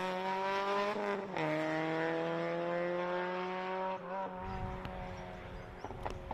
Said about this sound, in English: Another car cocking a wheel up around the hairpin.